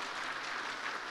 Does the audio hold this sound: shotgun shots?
no